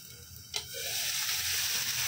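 Prawns sauté in spices in a pan. A brief clink comes first, then a soft, steady sizzle builds and holds, close and quiet.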